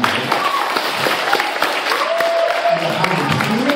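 Audience applause at a children's Christmas musical, with crowd clapping mixed with voices and a few brief tones, steady and fairly loud throughout.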